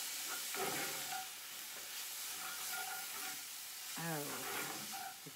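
Food being stirred in a hot pan, a faint steady sizzle and hiss with soft scraping strokes, while a voice speaks quietly over it.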